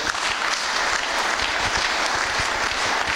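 A church congregation claps together for the Lord during a sermon, a dense, sustained wash of applause filling the room at steady loudness with no talk.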